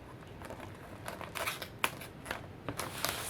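Scissors snipping through paper while cutting out a cupcake carrier, a series of sharp, close, crisp snips in an irregular rhythm, quiet between cuts.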